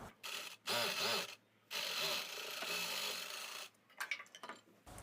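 Sewing machine stitching a size-36 blouse in short mechanical bursts, a close rapid whirring clatter that runs, pauses, then runs longer before ending in a few scattered taps and clicks.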